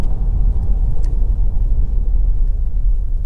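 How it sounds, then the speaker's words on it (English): A Vauxhall Astra 2.0 CDTi ecoFLEX diesel hatchback accelerates with a steady, muffled low rumble, close and even, with no voices heard. "The engine's really nice. Put your foot down, picks up keenly, quietly, smoothly"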